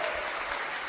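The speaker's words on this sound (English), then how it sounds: "So round of applause for all of our helpers." A church congregation applauds its helpers after a Sunday sermon, a brief burst of full, even clapping from the room.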